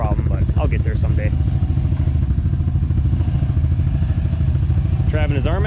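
A UTV stuck in four-wheel drive drones along steadily, its engine loud and continuous throughout, while people talk over it near the start and the end.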